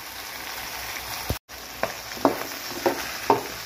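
Vegetables and beans sautéing in a pan for squid chopsuey: a steady, soft sizzle broken by a few sharp stirring clacks at irregular intervals, with no voices.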